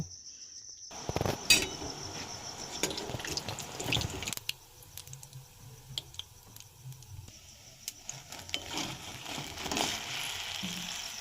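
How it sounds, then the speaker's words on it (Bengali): Sweet potato pitha frying in hot oil, a soft continuous sizzle with crackling pops and occasional sharper clicks and clatters from the pan, close by and moderately quiet, with no speech. "পিঠেটাও লাল লাল করে ভাজা হয়ে গেছে"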